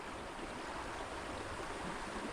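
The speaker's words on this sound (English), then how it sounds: "Whatever this creek is that runs through Hermit Valley, that's this creek." A small, clear creek in Hermit Valley in the Sierra flows with a soft, continuous rush and babble, faint and steady throughout, with no voices.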